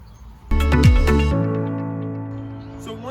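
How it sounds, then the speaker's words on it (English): A single sustained electronic beep from a measuring device sounds close and clear, holding steady for a couple of seconds before fading. "I'm gonna have a solid beep with a green light around it"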